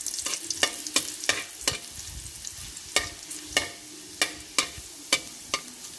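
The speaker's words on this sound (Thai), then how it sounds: "เจียวกระเทียมกันก่อน ไฟอ่อนๆนะครับ" Garlic frying gently in a pan over low heat, with a soft steady sizzle beneath repeated sharp scraping and stirring clicks of a utensil, close and clear, with no talking.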